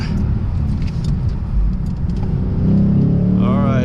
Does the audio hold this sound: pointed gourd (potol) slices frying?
no